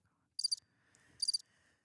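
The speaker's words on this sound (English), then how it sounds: "Crickets." Crickets chirp in two short, high, pulsing bursts with quiet between them, ending on a soft low thump.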